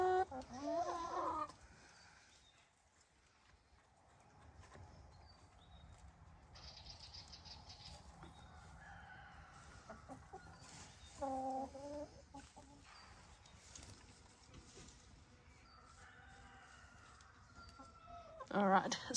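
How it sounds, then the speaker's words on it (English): Backyard hens and a rooster clucking in bursts at the start, midway and at the end, over a low, steady outdoor background with a person's voice present. "And there's our rooster Rainbow there."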